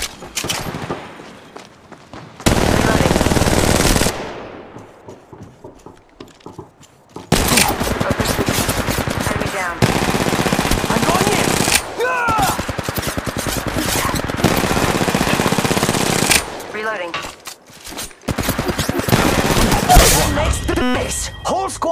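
Loud bursts of automatic gunfire from the mobile shooter Apex Legends Mobile, rapid volleys broken by short pauses and single shots, with game voice lines speaking over parts of the action.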